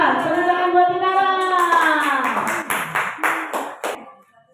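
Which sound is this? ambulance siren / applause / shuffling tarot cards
applause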